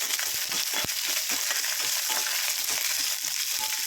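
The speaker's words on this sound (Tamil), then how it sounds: "இப்போ சின்ன வெங்காயம் கொஞ்சம் கருவேப்பிலை கொஞ்சம் போட்டுக்கலாம். நல்லா கிளறி விட்டுக்கலாம்." Small shallots and curry leaves fry in oil in a pan for a carrot and potato poriyal. A loud, continuous sizzle runs throughout, with frequent scraping and clacking as they are stirred.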